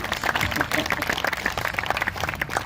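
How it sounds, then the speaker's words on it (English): Audience applause in an assembly hall at a Rotary gathering, a dense patter of many hands clapping that stays steady throughout, with a voice speaking over it. "Go ahead, applause. I'll take your applause."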